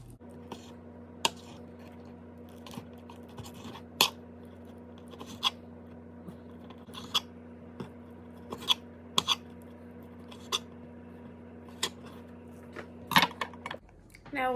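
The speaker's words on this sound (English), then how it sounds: "even though this meat's already in slices, I'm going to cut it a little bit smaller" A knife cuts already-sliced meat into smaller pieces on a board, giving a slow series of soft, separate chops close by over a steady low hum, with a louder clatter at the end.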